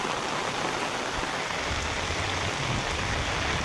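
Heavy rain pours down in a dense, constant hiss, loud and unbroken throughout, with no voices or other sounds standing out.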